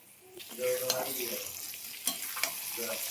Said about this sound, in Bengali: এবার এটাকে একটু ভেজে নেব